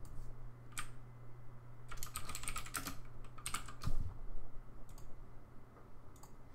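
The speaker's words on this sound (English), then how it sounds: "just type in that." Computer keyboard typed on quietly and at close range, short clusters of light key clicks with gaps between them over a faint steady hum.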